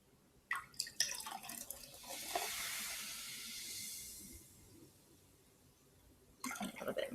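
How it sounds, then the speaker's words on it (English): Vinegar poured into a container for a popping-corn experiment, a few small clinks followed by a soft, steady splashing hiss of liquid lasting a few seconds, then renewed handling noises. "I'm going to add the vinegar."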